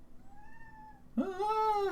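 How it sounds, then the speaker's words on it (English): A small brown cat gives one clear, drawn-out meow indoors after a quiet moment, close to the listener and fairly soft. "My cat meows, very similar to the way that Mario"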